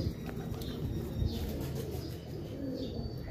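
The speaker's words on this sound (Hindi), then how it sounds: "ये कबूतर पकड़ा है" Soft, low pigeon cooing repeats near the microphone against a noisy background with faint chirps.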